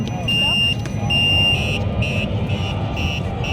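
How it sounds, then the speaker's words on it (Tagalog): Car alarm sounding in repeated high electronic beeps, moderately loud over background noise and people talking. "Oo, naka-on yung alarm niya."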